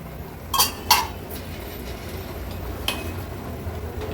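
A lid lifted off a pot of raw jackfruit cooking in a Konkan-style sukka, giving two quick metallic clinks close by, then a softer clink against a steady background hiss.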